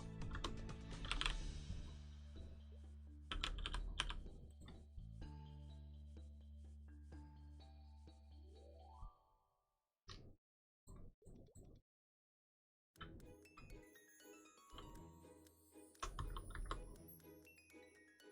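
A computer keyboard clacks in quick, dense bursts of keystrokes during PC gameplay. The typing is close and crisp, broken by a few short silent pauses, with faint game tones in the background.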